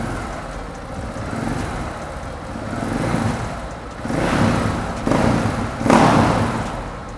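A car engine idles, then revs in three rising bursts as the throttle is pressed during a live check of the throttle position sensor, each rev louder and closer than the last.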